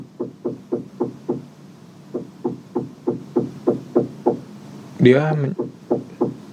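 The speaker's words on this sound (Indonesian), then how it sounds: "Kedengeran gak ada suara ketok-ketok?" Steady rhythmic knocking from nearby construction of a polling station, about two knocks per second, fairly close and distinct, with a brief voice cutting in near the end.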